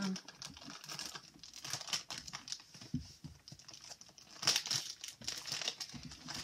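Plastic packaging crinkles and crackles in irregular bursts up close, with sharp rustles and a few snips as it is worked open.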